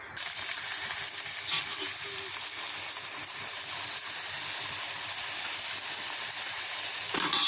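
Rice chekkalu crackers deep frying in hot oil, a steady close bubbling sizzle that holds evenly throughout with no talk.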